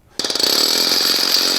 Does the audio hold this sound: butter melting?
no